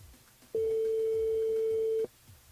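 A single steady electronic telephone tone sounds for about a second and a half, clean and loud over faint background, as a radio show places a call to a listener.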